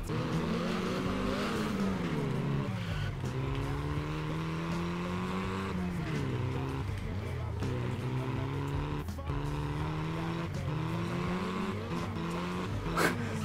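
Several cars drift at a drift meet in a video game, engines rising and falling in repeated revving sweeps with tire squeal, loud and continuous.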